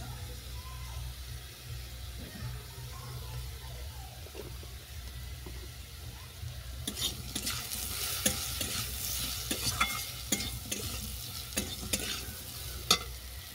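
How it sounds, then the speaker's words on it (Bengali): Turmeric and chili powder stirred in a hot pan give a steady frying sizzle with scraping strokes growing louder and busier about halfway through, close and continuous, with no voices. "এটাকে নেড়ে চেড়ে পরিমাণ মতো জল দিয়ে দিলাম"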